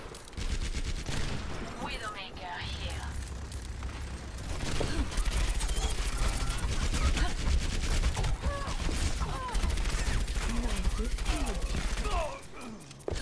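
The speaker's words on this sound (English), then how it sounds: "Why is this gun spinning so slowly?" A spinning gun firing in Overwatch, with a Bastion hero in play, as continuous rapid fire and mechanical whirring during a busy fight, with voice sounds mixed in.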